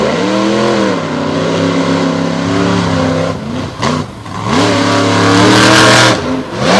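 Monster trucks Kamikaze and Pretty Wicked rev hard at the start line of an arena show at Lake Erie. Loud, close engine roars climb and fall in pitch, with brief dips between bursts.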